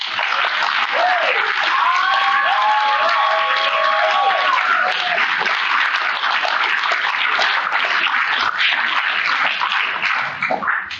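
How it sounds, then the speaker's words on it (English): A large convention crowd gives a sustained round of applause with cheers and whoops rising over the clapping, loud and dense throughout before thinning at the very end. "just one more round of applause for her"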